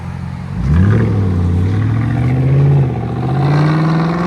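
A 2008 Volvo S80 with a 4.4L V8 and muffler delete revs up from idle, its loud, raspy exhaust note climbing and holding high before easing off, close to the microphone.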